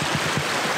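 Bear Creek on the Colorado Trail makes a steady broadband rush of flowing water, close and continuous with no voices.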